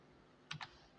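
Two quick keystrokes followed by a third sharper tap on a computer keyboard, close and clear against near silence.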